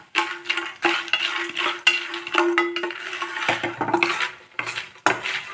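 Dried manathakkali berries roast in a pan with continuous rattling and clinking as they are stirred, the scraping loud and close with brief pauses throughout.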